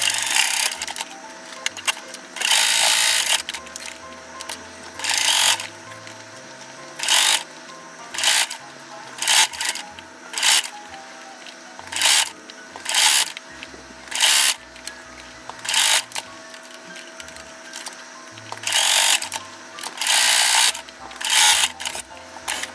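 A sewing machine stitches the fabric lining into a round crochet bag, running in repeated short bursts of whirring stitching separated by brief pauses, fairly close and clear with no talking.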